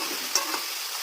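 Meat curry sizzles in hot oil as it is stirred and sautéed in a pan, a soft steady hiss with a couple of brief scraping stirs, no voices present.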